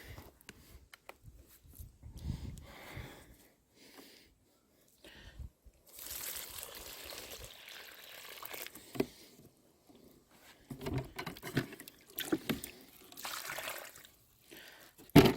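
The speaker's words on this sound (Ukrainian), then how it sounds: "Так, е, заливаю водою." Water pours intermittently into a bucket of green fertilizer mix made from grass, soil and microorganisms, a faint, uneven splashing and trickling heard close up in a quiet setting, with no talking.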